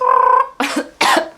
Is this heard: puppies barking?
no